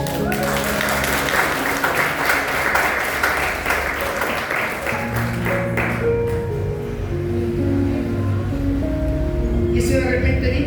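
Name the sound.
congregation applause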